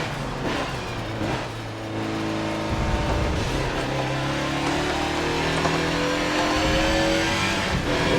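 Mazda race car engine in Forza Motorsport 7 lapping Daytona International Raceway, loud and continuous, revving and rising in pitch through gear changes, with no talk.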